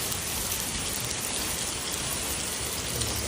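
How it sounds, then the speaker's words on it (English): Hail pours down during a storm in Tallahassee, a dense, steady roar of pelting ice that fills the whole stretch without pause or voices. "All this hail."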